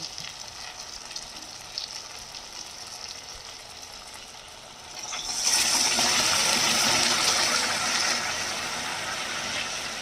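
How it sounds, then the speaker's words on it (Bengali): Boiled water is poured into a pan of spiced potato and tomato curry, setting off a sudden loud hiss and sizzle halfway through that then settles into a steady bubbling rush. "এবার আমি ফুটানো জলটা দিয়ে দেবো।"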